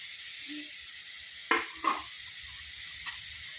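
Chopped spinach goes into a hot frying pan for an egg thoran, giving a soft steady sizzle with two sharp stirring scrapes near the middle and a faint later clink, all close and without talk.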